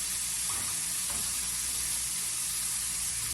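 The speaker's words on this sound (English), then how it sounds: "We have our chicken frying" Chicken fries in hot oil, giving a steady, close sizzle that runs evenly throughout with faint kitchen clatter underneath.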